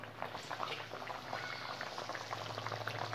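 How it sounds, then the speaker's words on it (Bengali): Parshe fish going into a pot of boiling spicy curry with potatoes, a steady close bubbling and simmering with soft wet pops throughout, no voices. "এবার আমি এর মধ্যে মাছগুলো দিয়ে দেব।"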